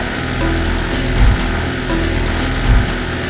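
Two motorcycles rev hard and steady while straining against a strong man pulling them in Pakistan, a loud continuous engine drone with two brief louder surges.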